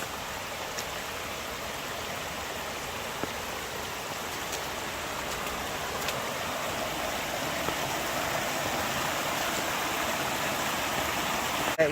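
Storm water rushing in several merging streams during Hurricane Helene in Atlanta, Georgia, a steady broadband roar of flowing water with no voices.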